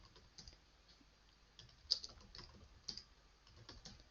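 Keys clack on a computer keyboard in an irregular run of light, quiet taps, with one or two sharper strikes and no talking.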